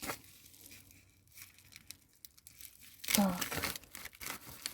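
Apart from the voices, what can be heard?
tearing open a small AliExpress parcel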